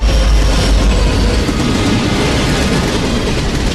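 A train travels with a loud, steady rumbling roar, heavy in the low end and constant throughout, with no speech.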